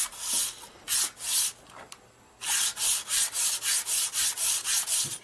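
Sandpaper rubs over the powder-coated inverted fork tree of a Harley Twin Cam Dyna, sanding down a built-up bead. It comes as a loud, close run of rhythmic strokes, a few uneven ones followed by a brief pause and then about a dozen steady passes.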